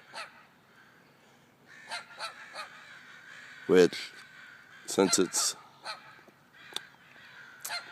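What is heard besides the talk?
flock of birds fighting over a tree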